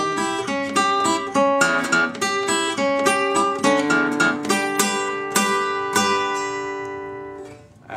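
Acoustic blues guitar playing the final stanza of a song, plucked notes and chords in a steady, bouncing rhythm, close and alone, with the last chord decaying into quiet.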